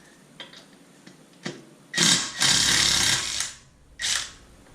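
A few light knocks, then a loud impact wrench rattles in two bursts removing a front strut stud on a 2013 Dodge Dart, pausing briefly before a final short burst, close up.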